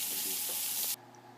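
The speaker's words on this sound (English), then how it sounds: "I'm cooking some vegetables and the grease left over from the sausages" Vegetables frying in leftover sausage grease on a home stove, a loud, close, hissing sizzle that runs steadily then cuts off abruptly near the end, leaving quiet room tone.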